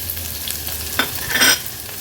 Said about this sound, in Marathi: बारीक चिरून घेतलेला मोठासा एक कांदा आपण तेलावर ॲड करूया।